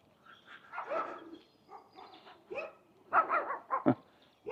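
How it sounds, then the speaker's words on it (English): Small dogs barking in a suburban street in Innisfail, Queensland, Australia, with bursts of yapping and whimpers spread through the clip, moderately close, alternating with brief quiet gaps. "Tiny little dogs."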